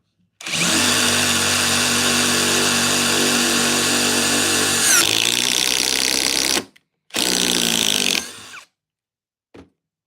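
An impact driver whirs loudly for several seconds driving a screw, its pitch dropping as the screw bites, then two shorter bursts follow before it stops.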